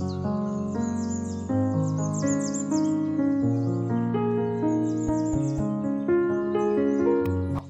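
Eastern rosella parrots give high, short chirping calls in repeated bursts, fairly faint and set under louder sustained relaxing music with slow-changing tones.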